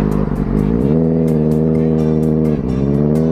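A Benelli 600i sports motorcycle engine revs loudly and close by, its four-cylinder howl climbing and holding steady with a brief dip near the end, with no talking.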